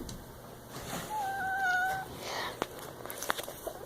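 A cat meows twice in quick succession, a rising tonal call lasting about a second, heard close and clear over a quiet room with faint background noise.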